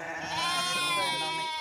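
Sheep bleat continuously at a busy livestock market in Banaganapalle, a dense chorus of overlapping calls, loud and close, with faint background voices.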